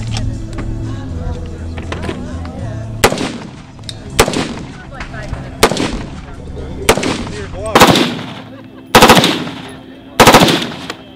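Machine gun fired in bursts at an outdoor shoot: about six loud, sharp bursts spaced a second or two apart, each a rapid rattle of shots, with faint talk and background noise before the firing starts.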